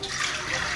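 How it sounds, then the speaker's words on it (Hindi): Tap water running steadily into a small bowl in a home kitchen while cooking samosa filling, a continuous close splashing gush with no talk. "अब इसमें पानी ले ली हूँ"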